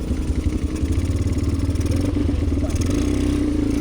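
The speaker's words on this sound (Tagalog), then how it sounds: "Ikot lang tayo ngayon para magamay natin yung pagandar ng ATV." An ATV engine runs steadily on a practice ride along a trail in Albay, Bicol, in the Philippines, a close, continuous mid-pitched rumble with rattling clatter and slight throttle changes throughout.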